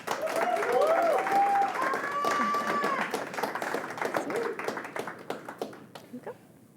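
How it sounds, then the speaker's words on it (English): An audience claps in steady applause that fades out over several seconds, with a whistle and scattered cheers near the start. "Let's give him a very loud round of applause."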